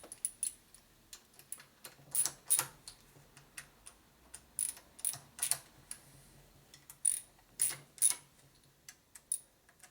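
A torque wrench tightens bolts on a 2000 Harley FXR's 80ci Evolution engine during a rebuild, giving a series of sharp, fairly faint metallic clicks, often in quick pairs, with irregular gaps between them.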